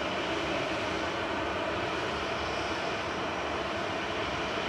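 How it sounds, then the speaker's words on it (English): A Ryanair jet sits lined up for takeoff to Madrid at Manchester Airport, its engines giving a steady, unbroken broadband roar that holds at even loudness throughout. "Ryanair's EFZ lined up and ready to go to Madrid."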